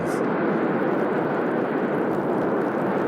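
A jet fighter aircraft takes off in the film The Starfighters, a steady, loud, broad roar that holds at full strength throughout with no voices.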